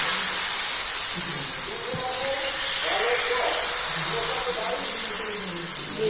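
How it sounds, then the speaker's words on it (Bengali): Rice batter for soft sarucakli sizzling on a hot tawa lightly brushed with oil, giving a steady, bright hiss that runs throughout while a person talks over it. "আর এবার আমি কিছুটা পরিমাণ ব্যাটার নিয়ে দিয়ে দেবো চাটির মধ্যে"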